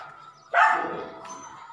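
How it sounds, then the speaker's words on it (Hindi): A dog barks once sharply at close range, then a couple of softer yips and whimpering follow, inside a home while someone is outdoors in approaching rain. "पता नहीं क्यों भौंक रहा है यार"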